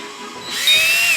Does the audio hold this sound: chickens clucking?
no